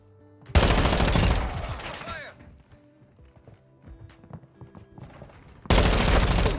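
Rapid-fire gun in a video game, a loud, dense burst of shots lasting over a second, then quieter clatter and effects, before another loud volley starts at the end.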